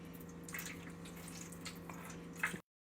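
Water pours steadily into a pan for a custard water bath, a soft, continuous trickle with faint drips over a low electrical hum, ending in a brief louder splash.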